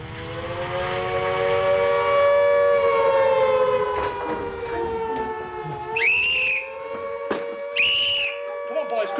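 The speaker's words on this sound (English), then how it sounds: "I'm about to sound this air raid siren." An air raid siren sounds at dawn at a manor house, a loud steady wailing tone that sags slightly in pitch, with a few short sharp whistle blasts cutting in near the end.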